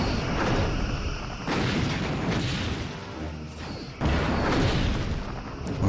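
Torpedoes launching in Star Trek Bridge Commander, loud booming bursts with crackling roars, one blast around the middle and a sharp new volley near the end, no talking.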